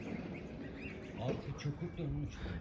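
A goose calls with a few short honking and squawking cries, near and moderately loud, mixed with ambient farmyard noise as people talk nearby.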